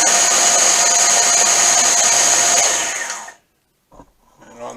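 A repaired 1-inch belt sander runs with a loud, steady motor whine and belt hiss for about three seconds, then winds down to silence, followed by a couple of faint knocks.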